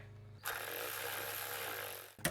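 A power tool runs a bolt down to hold the wiring harness on a 2003-2006 Acura MDX engine, one steady close whir lasting under two seconds, then a short rattle as it stops.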